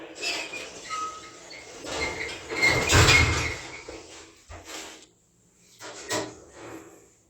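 Traction lift doors at Richmond Town Centre, London, slide and rattle shut with a rumbling, clattering rush, ending in a couple of knocks as they settle closed.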